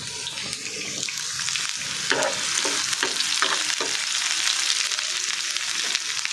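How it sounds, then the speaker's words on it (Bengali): Onions and garlic fry in a pan for a Bengali okra dish, a continuous hiss of oil with scattered stirring scrapes and soft clinks throughout, close and fairly quiet. "পেঁয়াজটা ভাজা হোক।"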